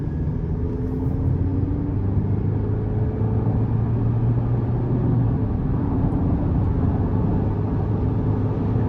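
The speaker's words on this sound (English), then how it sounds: "We'll give it just a little throttle here." A 2023 Chevrolet Colorado LT pickup with a 2.7-liter turbocharged four-cylinder and eight-speed transmission pulls away under light throttle, a steady low engine hum with rising tonal whine heard from inside the cabin, continuous and moderately loud without speech.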